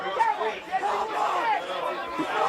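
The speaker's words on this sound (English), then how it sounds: "In front of a big crowd here today, boys." A big crowd chatters at a first grade rugby league match, with a steady, dense murmur of many voices and occasional louder calls rising out of the hubbub.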